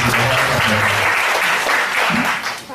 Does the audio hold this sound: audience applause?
yes